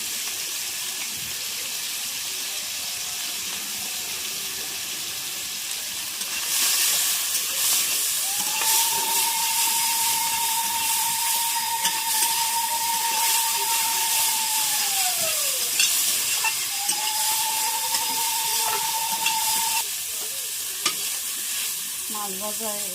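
Fish fries in oil on a wood-fired clay stove, giving a steady loud sizzle with occasional stirring scrapes. The frying gets stronger partway through, and a sustained thin whistling tone rises over it for several seconds.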